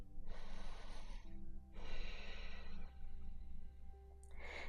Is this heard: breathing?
yes